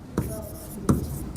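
Pen scratching on paper while working out a parade soldier-count problem by hand, two short scraping strokes standing out against a quiet room background.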